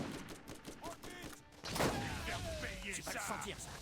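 A rocket launcher in the video game Borderlands fires once with a dull, punchy blast midway, amid quieter clatter and game sounds at a low overall level.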